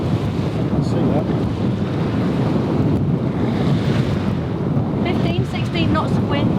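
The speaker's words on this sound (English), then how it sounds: "15, 16 knots of wind." Strong wind of about 15 to 16 knots at sea roars steadily across the microphone, with waves washing around a sailboat in a continuous broadband rush.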